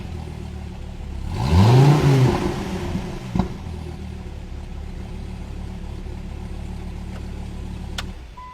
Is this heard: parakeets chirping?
no